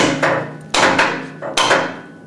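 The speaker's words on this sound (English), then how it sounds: "Won't go in all the way, but it will when I start hammering on it." Hammer blows driving a piece of metal into place in a workshop, with three loud, ringing strikes spaced unevenly and each decaying over a second or so.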